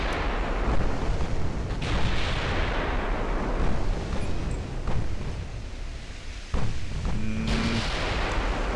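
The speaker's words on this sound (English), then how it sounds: "So we got a whole broadside, I think, on them." Naval guns fire broadsides in the warship battle game Ultimate Admiral Dreadnoughts, a dense, continuous rumble of booming cannon blasts and distant explosions rolling together, with a sharper report near the end.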